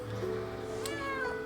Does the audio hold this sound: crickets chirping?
no